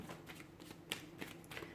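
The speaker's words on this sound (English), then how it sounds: "So we'll give the cards a shuffle here" Tarot cards being shuffled by hand, a quiet run of soft papery riffles and flicks with a few sharper snaps, close up and faint, no talking.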